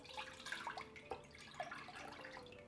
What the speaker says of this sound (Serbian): Sipat ću u šerpu 800 ml mlijeka